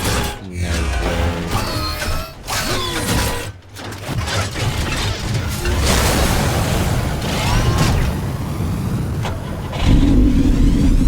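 The Batmobile in the Batman Telltale Series game starts up and revs, with mechanical clunks and transforming noises early on, then a sustained, loud engine roar and whine that holds steady to the end.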